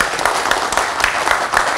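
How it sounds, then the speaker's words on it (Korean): A lecture audience claps steadily in a dense, continuous burst of applause, filling the room evenly from start to finish with no voices standing out. "아, 박수 좀 안 쳐줍니까?"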